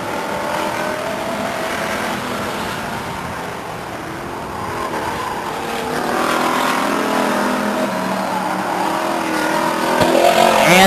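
Stock cars race around Stockton 99 Speedway, engines droning and rising in pitch as they pass, swelling louder toward the end with overlapping revving and no talk.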